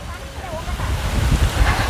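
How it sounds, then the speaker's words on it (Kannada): Cool wind gusting across a hilltop viewpoint in Wayanad, a steady broadband rush with low rumbling buffeting that swells in the second half, continuous throughout. "ಈ ಪಾಯಿಂಟು ಗಾಳಿ ಒಳ್ಳೆ ತಣ್ಣಗೆ ಬೀಸ್ತಾ ಇದೆ ಈಗಂತೂ"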